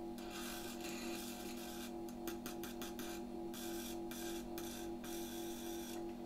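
A small electric motor in a 1973 Predom-Metrix Z-51B fan spins steadily, a close, continuous hum with scratchy rubbing noise over it that comes and goes throughout.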